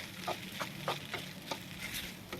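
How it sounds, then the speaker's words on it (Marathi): Sabudana (sago) is stirred in a pan, giving soft, evenly spaced scraping strokes over a quiet, gentle sizzle, with no talking. "छान असं मिक्स करून घेऊया या साबुदाण्याला"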